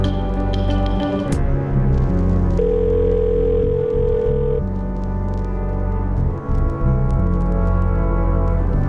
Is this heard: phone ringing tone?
yes